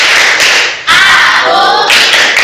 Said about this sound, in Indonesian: 1, 2, 3, tepuk konsentrasi